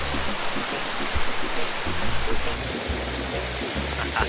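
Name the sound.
golden waterfall pouring into a mountain swimming pool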